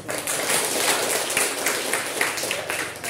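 Classmates clap after a group presentation in a school classroom, a steady and somewhat distant wash of applause lasting the whole stretch.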